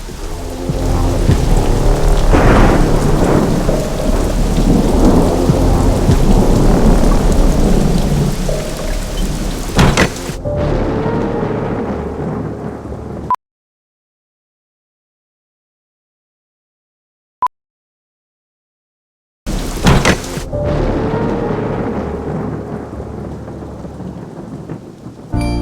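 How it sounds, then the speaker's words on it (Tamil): Heavy rain pours outside with rumbling thunder, a dense loud downpour on surfaces for about thirteen seconds, then a stretch of total silence before the rain resumes, no voices. "வெளியே இவ்வளோ ஜோரம் மழை பெஞ்சிட்ருக்கு"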